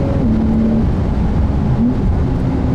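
Porsche 911 992 with PDK gearbox in Sport Plus mode, engine droning loud and steady inside the cabin as pitch drops sharply at a quick gear change, then climbs again into a second shift.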